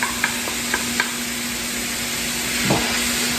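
Onion sizzles in a hot pan, a dense, steady frying hiss close by, with a few light taps of a utensil near the start and a brief stir later.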